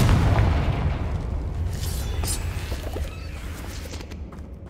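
A Confringo blasting spell goes off in Hogwarts Legacy, a loud rumbling boom at the start that decays into a long, dense roar and debris crackle, fading over several seconds.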